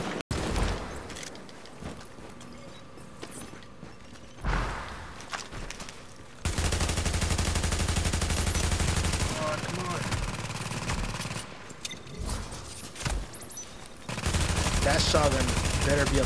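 Gunfire in The Division video game, with sustained automatic bursts and scattered shots over long stretches, loud and busy, plus speech at times.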